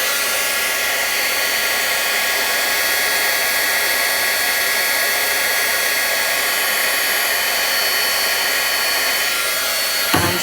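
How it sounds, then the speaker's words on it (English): Heat gun running continuously at close range for heat embossing on paper, a loud steady blowing roar with an even fan hiss that holds unchanged until it cuts off at the very end. "So let me bring the heat gun back in"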